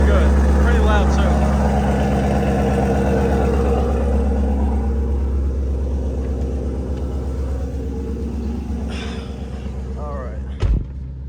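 A 5.0 engine idling after a warm start, a loud, steady deep rumble that holds through the whole stretch, ending with a brief thump near the end, with no one speaking over it.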